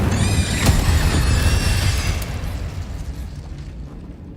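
An Incendio fire spell is cast in the Hogwarts Legacy video game, giving a loud, dense whoosh and burst of flame that hits hard at the start, then slowly fades into a crackling tail.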